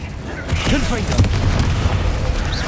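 A booming Confringo blasting-spell explosion erupts in Hogwarts Legacy combat, with a deep rumbling burst that trails off while a voice talks over it.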